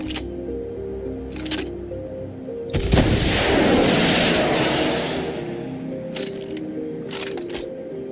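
A rocket launcher in a UE4 robot combat game fires once with a loud, broad burst that decays over about two seconds, with short clicks and steady tonal game sounds before and after.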